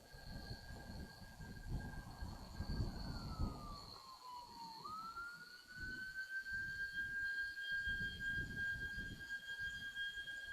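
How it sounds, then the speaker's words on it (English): A distant warning siren sounds before a SpaceX Starship SN8 Raptor engine preburner test. The faint, steady tone dips in pitch and climbs back up over a low, rumbling outdoor background. "we were even hearing the siren in the first place"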